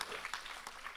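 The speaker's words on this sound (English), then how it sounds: "Worth a round of applause." Audience at a talk on fundamental freedoms gives a round of applause, a short, fairly faint patter of clapping heard from a distance.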